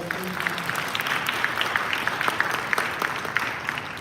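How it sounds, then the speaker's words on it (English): An audience at an event at Nike's New York headquarters breaks into steady, sustained applause, a dense wash of many hands clapping at moderate distance with no talk over it. "Let's have a round of applause for her"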